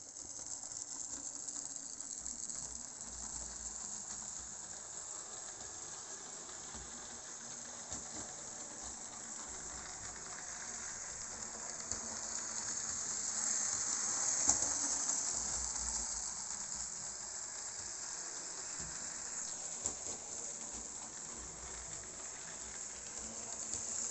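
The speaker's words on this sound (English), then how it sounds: "Lovely slow running locomotive." A Jouef SNCF 231C60 model steam locomotive runs slowly on a layout, making a steady, faint whirring hiss that holds evenly throughout with no talk.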